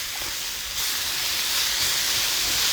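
Onions, mushrooms and peppers sizzle on a Blackstone griddle, a steady close-up hiss that swells slightly louder partway through, with no talking.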